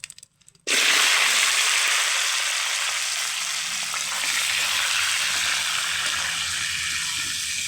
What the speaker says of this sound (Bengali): আলু কটা ভেজে নেব।